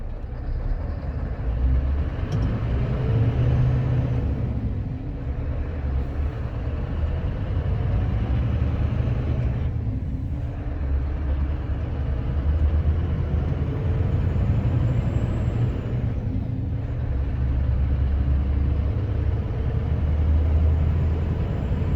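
Road traffic passes around a Scania R560 gravel truck in midday traffic, a continuous low rumble of engines and tyres with broadband road noise swelling and easing as vehicles go by, heard steadily from inside the cab.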